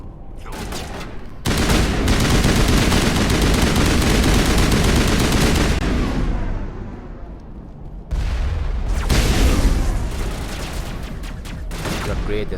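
Sustained bursts of assault rifle fire in Mass Effect, loud rapid automatic shots pounding on for several seconds, a brief pause, then another long volley, with occasional game sounds mixed in.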